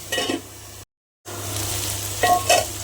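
Ingredients sauté in a pan for a shark fish curry, giving a moderate sizzle with light stirring clinks over a low steady hum, broken by a brief silent gap.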